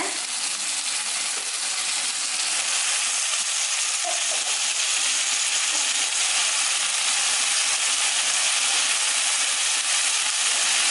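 Chopped eggplant goes into a pan of frying tomato and onion, giving a steady, close hiss and sizzle that holds evenly throughout with no talk.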